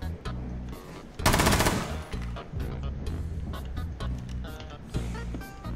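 Rapid automatic gunfire rattles in bursts during a Counter-Siege: Battlegrounds match, with one dense, loud volley near the middle and scattered shots around it.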